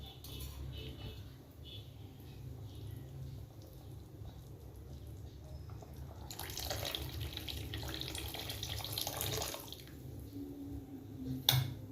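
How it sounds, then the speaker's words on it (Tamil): Tamarind extract is poured into a simmering fish curry, a soft trickling liquid sound that swells in the middle and ends with faint drips and a small clink. "இதுக்கப்புறம் புளி கரைசல் எடுத்து ஊற்றலாம்."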